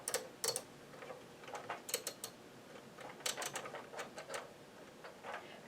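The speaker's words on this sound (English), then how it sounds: "Now it's time to put my row counter on 0, 0, 0" Row counter on a knitting machine being reset, a series of quiet mechanical clicks and ratcheting ticks in irregular bursts against a faint background hiss.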